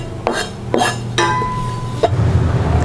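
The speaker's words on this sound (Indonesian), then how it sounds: "Kita masukkan ke dalam panci." Pieces of palm sugar drop into a metal cooking pot, giving several close clinks and knocks with a brief ringing metallic tone, followed by a softer rustling knock over kitchen background hum, no speech.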